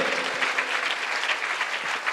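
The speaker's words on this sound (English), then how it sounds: "All of you clap your hands to glorify Lord." At a Christian gathering in Odisha, a congregation claps together to glorify the Lord, producing a dense, continuous wash of many hands at an even, sustained level, heard up close.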